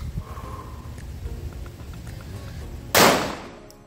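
A single sharp pistol shot from a handgun fitted with a Sig Sauer Romeo 2 red dot sight cracks loudly near the end at a shooting range about 5 to 7 yards from the target, after a stretch of quiet low rumble.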